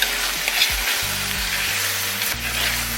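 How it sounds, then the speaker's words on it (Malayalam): Split green chillies and vegetables sautéing in a pan for an Onam-style Kerala vadakkoottu curry: a steady, close hiss of frying oil with a low hum underneath, continuous through the whole stretch. "ഇതെല്ലാം കൂടി ഒന്ന് വഴറ്റുക."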